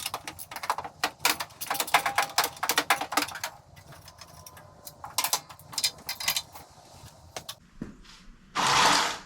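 A wrench works rusty bolts out of the fender of an El Camino, giving bursts of rapid ratcheting clicks and metallic creaks, close by, ending in a short loud rush of noise, and no voices.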